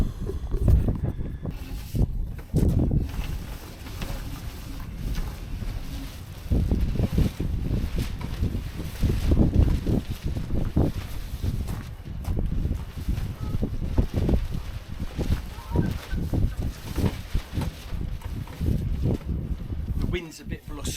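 Blustery wind gusts buffet the microphone aboard a sailboat, a rough fluctuating roar in uneven bursts, with someone talking over it.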